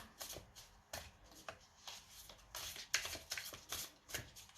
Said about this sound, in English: It's easy to shuffle.